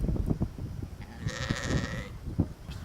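Lambs bleat on a Highland croft, with one wavering, drawn-out bleat standing out clearly at mid-distance above a busy background of outdoor rustle and knocks.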